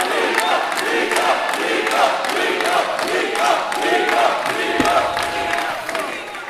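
A large crowd at a Brazilian political event shouts and boos at a politician, a dense, sustained roar of many voices that stays loud and steady throughout.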